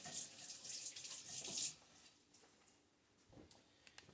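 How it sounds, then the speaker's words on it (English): Running tap water rinses cake batter off hands at a kitchen sink after mixing a butter pecan bundt cake, a steady splashing stream lasting about a second and a half, then fading to quiet room tone with a few small clinks. "Rinse up my hands."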